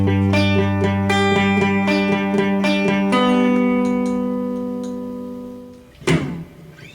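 An acoustic guitar strums the rhythm of a song at a quicker pace, with regular down and up strokes. The chords ring and die away, and a sharp muted hit comes near the end.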